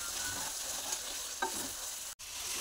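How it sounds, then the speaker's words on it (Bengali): Chicken curry masala sizzles in a pan as it is sautéed, a quiet, continuous frying hiss with a couple of light stirring scrapes and a brief dropout near the end, no voices. "এখন ভালো করে কষিয়ে নিই"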